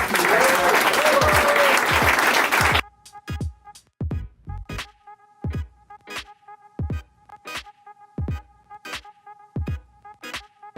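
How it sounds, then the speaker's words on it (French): Applause from an audience greets the Canadian short track speed skating team, a dense burst of clapping for a few seconds, then cutting to sharp, evenly spaced knocks with a faint tone between them. "Une bonne belle applaudissement."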